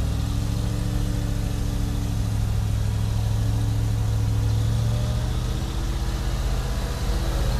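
A 4x4 bucket truck crawls in low gear with its drivetrain binding, giving a loud, continuous engine drone with a low rumble that holds steady throughout.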